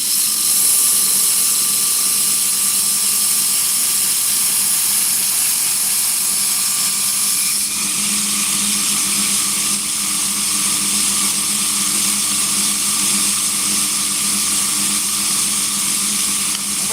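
A bench grinder running continuously against a knife blade, a loud sustained whine and hiss with a steady high rasp that shifts in tone midway, close up with no talking.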